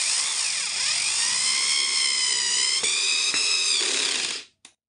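An iBell electric screwdriver drives a large screw into a wood piece, giving a high, steady whirring whine for about four seconds that slows slightly before cutting off, followed by a brief click.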